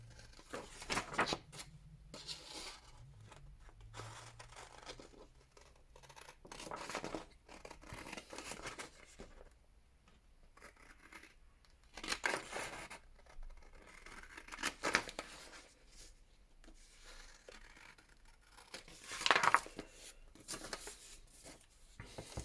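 Scissors cut away the excess from a glued paper pocket in a papercraft project, several separate snips and crisp slicing strokes with quiet paper rustling in between, close and fairly soft.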